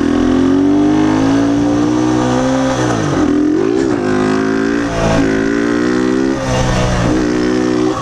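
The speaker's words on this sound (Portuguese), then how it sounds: "levantar a moto e até acabar com o motor" A motorcycle engine revs hard during a wheelie, sounding loud and close, with a sustained high drone that dips and climbs again several times as the throttle is eased and reopened.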